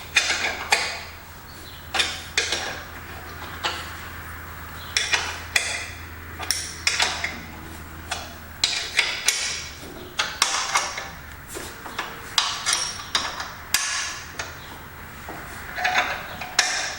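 Wrench work on a 1974 112 garden tractor: a run of sharp metallic clicks, knocks and clanks, irregular and close, with short pauses between bursts.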